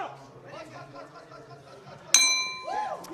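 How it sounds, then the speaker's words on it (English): A boxing ring bell clangs to end the second round of a +92kg quarterfinal bout, a bright ringing strike that sustains under an excited commentator's voice, with a second tone following. "the bell's about to go at the end of the second"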